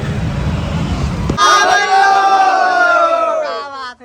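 A crowd packs a Raipur cinema hall for a film's first show, roaring with loud babble, then breaking into shrill whoops and cheering that fade near the end.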